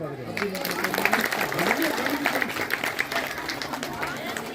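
Applause from an audience at a Bhagavata katha recitation event, a steady dense patter of many hands lasting throughout, with some crowd chatter and voices mixed in underneath.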